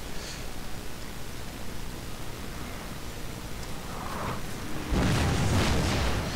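Unicorn artillery in Napoleon Total War shelling a burning house, a steady low battlefield rumble that breaks into a loud, heavy boom near the end, with no talk.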